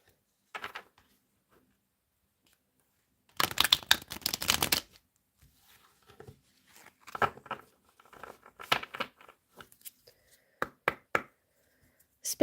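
Brisk riffling bursts of a tarot deck being shuffled for a reading, one long burst followed by several shorter crisp flurries, close and fairly loud.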